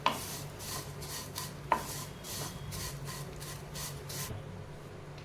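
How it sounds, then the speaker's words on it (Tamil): Vermicelli being roasted in ghee in a pan is stirred with a utensil, making repeated rhythmic scraping and rubbing strokes against the metal, close and fairly quiet, with a couple of sharper knocks. "இப்போ இதை நம்ம இந்த நெய்லேயே நல்லா ரோஸ்ட் பண்ணி எடுத்துக்கலாம்."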